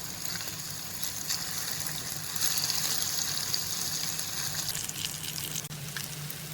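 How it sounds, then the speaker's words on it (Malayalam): Fish frying in a pan with a steady, close hiss of sizzling oil that swells slightly midway and carries on without a break. "ഇതിന്റെ കൂടെ തന്നെ ഫിഷിനെയും ഫ്രൈ ചെയ്തെടുക്കുന്നുണ്ട്."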